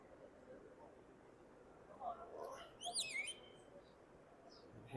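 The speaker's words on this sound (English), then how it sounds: "Hear some birds singing." Birds chirping outdoors in the courtyard of the Prophet's Mosque in Madinah, a short burst of bright calls in the middle of the clip over steady ambient noise and faint voices.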